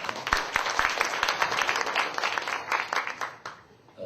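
An audience at a church regional camp forum claps in a loose, fairly quiet round of applause, individual claps audible within it, thinning toward the end.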